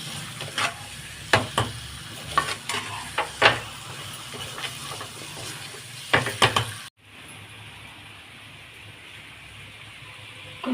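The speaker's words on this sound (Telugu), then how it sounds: "చికెన్ కూడా వేసేసుకుందాం. వేసుకుని కలుపుకుందాం." Chicken pieces sizzle and fry in a pan for a home chicken curry, with scraping stirs and clatters coming in bursts for about seven seconds, then a steady quieter hiss of frying alone.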